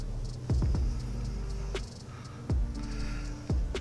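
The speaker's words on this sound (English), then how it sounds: "I mean, I hear cars over there." Cars pass by out of sight from a wooded trail, several separate whooshes rising and falling one after another over a low background hum, fairly clear rather than faint.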